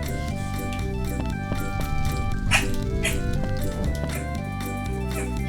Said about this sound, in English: Hush your little pie hole, doggy.